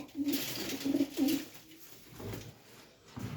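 Several low coos from pigeons follow one another in a quick cluster, then fade into quieter background noise with faint murmuring.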